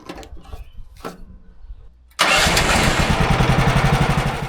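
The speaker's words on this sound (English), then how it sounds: "I like to keep that handheld blower around because obviously you generate a lot of dirt and dust when you're milling" A small two-stroke handheld blower at a sawmill starts with a pull or two then bursts into a loud, raspy, steady running whine close by, after a quiet opening with a few knocks.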